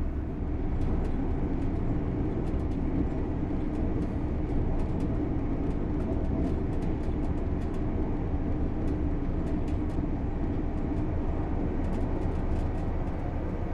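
A train in Train Sim World 4 heading toward Stoke Tunnel, giving a steady, loud, continuous rumble and wheel roar with faint high ticks scattered throughout and no breaks.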